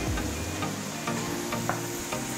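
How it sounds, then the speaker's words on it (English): Spoon stirring grits in a pot, with soft repeated scraping strokes at an irregular pace over a steady background sizzle from the stove, close and continuous. "We're gonna stir these grits one more time."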